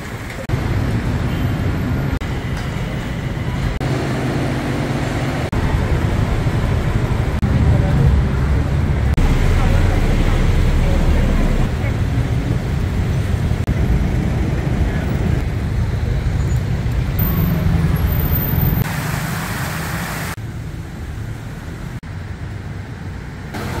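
Light evening traffic on Sukhumvit Road in Bangkok rumbles steadily, with cars and buses passing and a continuous roadway hum that swells and fades.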